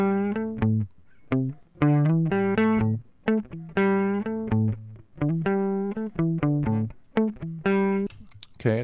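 Distorted electric guitar track played back solo in Pro Tools plays a riff of chopped chords and single notes, loud and dry, with short gaps between phrases.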